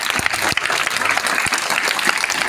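An audience at a school event applauds guests with dense, steady clapping that fills the whole stretch at close range, with no voices standing out.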